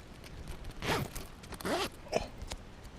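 Zip on an OEX Hyena II tent being pulled open in three short rasping strokes, close by, with quiet rustling of fabric between them.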